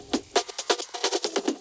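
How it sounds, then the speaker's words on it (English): A thin, bright drum loop with the low end stripped away by an EQ Eight high-pass filter in Ableton Live 12, leaving quick tapping hits and hi-hat ticks in a steady groove. "I applied EQ8 and I pretty much added a high pass filter and it sounds like this."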